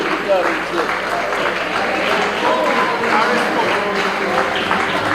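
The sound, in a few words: audience applauding debate champions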